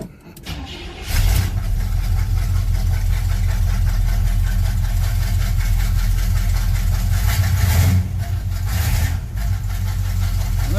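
Chevrolet Monte Carlo engine catching on a cold start and then idling steadily, a loud, close, continuous low rumble with a faint knock running through it, no voices.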